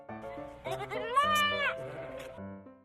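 A goat bleats in a children's fairy tale, one wavering, quavering cry that rises and then fades, set against a musical background.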